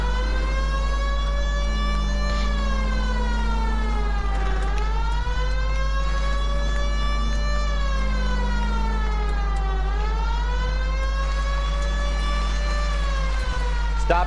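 A police car siren in LA Noire wails loudly and continuously, rising and falling in long, slow cycles over a steady engine hum.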